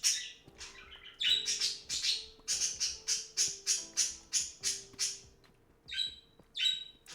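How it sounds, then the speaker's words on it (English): Pet birds squawking and chirping indoors in a run of loud, rapid calls close by, with brief pauses and a softer low background hum, no talking. "So sorry about my birds again."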